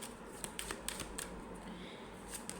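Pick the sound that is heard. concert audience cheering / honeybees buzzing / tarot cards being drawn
tarot cards being drawn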